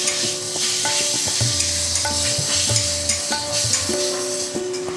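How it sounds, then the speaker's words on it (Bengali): Ginger garlic paste sautés with softened, lightly browned onions in a kadai, giving a constant close sizzle with occasional stirring scrapes and a low hum underneath. "আদা রসুনের পেস্টটা দিয়ে কষিয়ে নিয়ে, আদা রসুনের কাঁচা গন্ধটা চলে গেলে"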